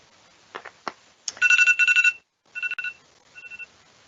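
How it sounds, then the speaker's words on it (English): An electronic bell rings in several short bursts with gaps between them, clear and fairly close, after a few faint knocks, at the end of a conference talk; no talking. "Now the bell is ringing."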